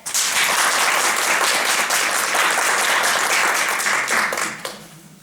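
A theatre audience applauds loudly and steadily for several seconds, the clapping dense and even before it fades away near the end.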